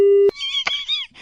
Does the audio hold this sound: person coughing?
no